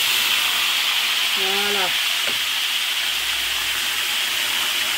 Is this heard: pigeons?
no